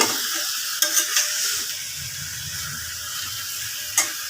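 Spice paste of tomato, garlic, ginger and onion sizzling in a pan for aloo dum while a spoon stirs it, with a few scraping clinks near the start and one near the end over a steady frying hiss.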